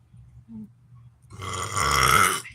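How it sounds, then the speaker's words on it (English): A person burping: a short low gurgle followed by a longer, louder, rasping belch, close to the microphone with no talk. "Apologize for the burps."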